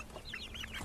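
Chickens clucking in outdoor pens where they forage on grass, seeds and insects; several short, rising clucks come in quick succession at moderate distance, fairly faint, with no talking.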